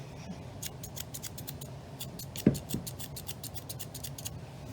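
Close, crisp snips of grooming scissors trimming an English Springer Spaniel's coat, a quick run of light cuts with a soft thump midway and faint rustling.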